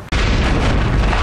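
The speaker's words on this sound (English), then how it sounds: "Large explosion at the Silverton Estate." A large explosion at a housing estate bursts in loud and close after a brief silence, then a dense, sustained roar fills the rest of the moment with no voices.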